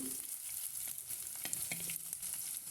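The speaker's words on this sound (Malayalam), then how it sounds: "ഇഞ്ചിയുടെയും വെളുത്തുള്ളിയുടെയും പച്ചമണം പോകാനായി 1 മിനിറ്റ് നേരം ഇതുപോലെ വഴറ്റി കൊടുക്കണം." Crushed ginger and garlic sauté in a pan as the base of a fish curry. A close, continuous sizzle and crackle is overlaid by soft scraping from stirring throughout.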